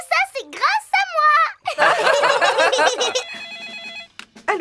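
A telephone rings in a Peppa Pig cartoon, a repeated warbling trill that sounds after bursts of lively cartoon voices and ends with a short electronic tone.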